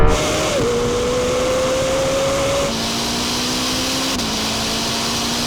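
A Ferrari SF90 accelerating hard in a drag race against a Lamborghini Temerario, a loud sustained engine whine rising in pitch with clear gear-change drops, heard from inside with no talk.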